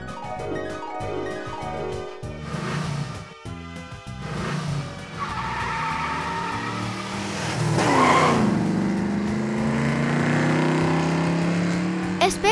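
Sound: cartoon car speeding away with tire squeal

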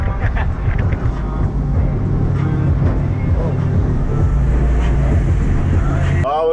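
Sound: boat speeding across to the next island at 29 knots

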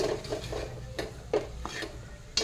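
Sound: stirring and sautéing samosa vegetable filling in a pan

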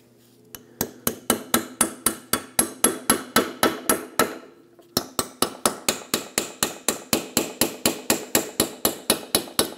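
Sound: hammer and chisel loosening a Ford Focus wheel hub

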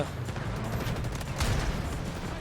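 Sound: gunfire in the video game Delta Force

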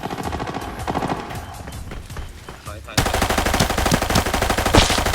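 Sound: gunfire in video game Arena Breakout

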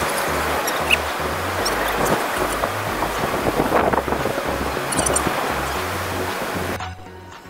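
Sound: strong wind on a beach

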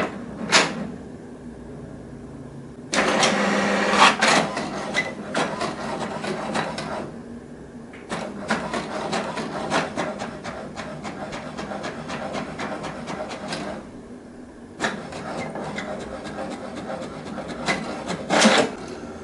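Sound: HP Deskjet 2652 printer printing a document

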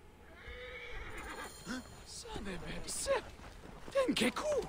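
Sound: horse neighing in video game Assassin's Creed Origins

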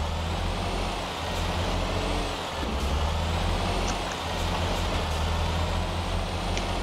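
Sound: truck driving in the video game Garry's Mod

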